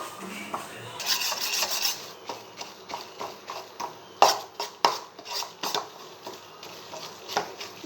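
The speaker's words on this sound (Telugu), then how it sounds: "ఇది అడుగంటకుండా మనం ఇలా తిప్పుతూనే ఉండాలండి." Besan laddu mixture being stirred in a pan, rhythmic scraping strokes with sharp clinks of the spoon against the metal, repeated roughly every half second, fairly close with a faint voice at times.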